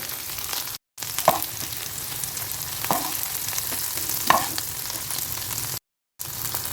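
Okra (bhindi) frying in a pan, a continuous soft sizzle with a few faint stirring clinks, broken by two short moments of silence.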